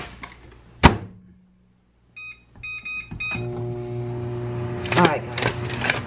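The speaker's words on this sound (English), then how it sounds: "Let me throw the broccoli in the microwave." A sharp thunk, then a few short electronic beeps, followed by a steady humming drone with clicks as a microwave oven heats broccoli nearby.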